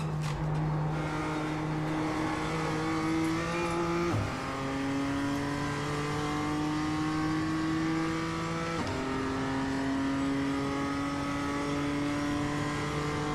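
A BMW M2 race car runs a practice lap at Daytona, its engine roaring loud and close as it climbs through the gears, with sharp shift drops about every four seconds and no talk.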